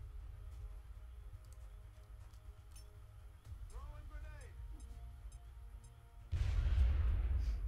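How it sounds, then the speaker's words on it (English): A grenade explodes in the video game XCOM: Enemy Within, a sudden heavy blast that bursts in near the end and roars on loudly over the steady game music. "Grenade. No risks."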